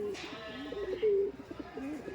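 Teddy pigeons, a high-flying breed kept in Murshidabad, coo with a few soft low calls, one longer sustained coo near the middle, close by with faint background noise.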